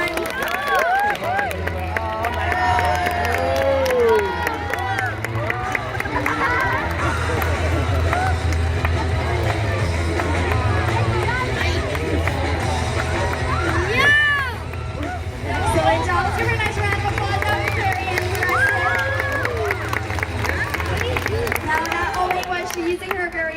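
An audience at a sea lion show at an aquarium claps and cheers in a sustained roar of applause and crowd noise, with voices mixed throughout.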